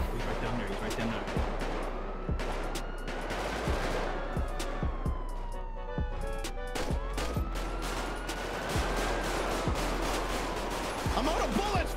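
A cop shootout in GTA brings sharp gunshots in scattered bursts and volleys under a wailing police siren, with voices talking over the chaos.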